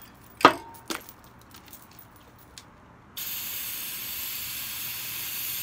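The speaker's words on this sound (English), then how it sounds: "And then I'm going to spray some white." An aerosol can of white spray paint hisses in a steady, continuous burst, used for hydro-dipping marble coffee mugs. A couple of sharp clicks and light rattles come first. The spray then runs loud and even to the end, with no voices.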